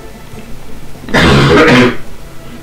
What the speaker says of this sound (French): T'es obligé de tousser comme ça?